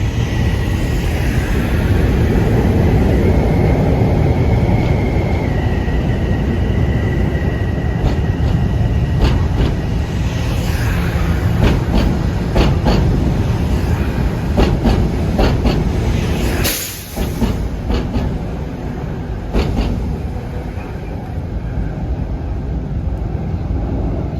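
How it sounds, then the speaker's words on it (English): A southeastbound Metro-North M3 electric commuter train rumbles steadily past close by a station platform, with rhythmic clickety-clack of wheels over rail joints and a brief high whine partway through. "And here goes a southeastbound train of M3s."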